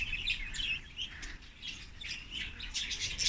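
A flock of budgerigars at Leipzig Zoo chirps and squabbles continuously, a dense chatter of overlapping high tweets and squawks with no voices.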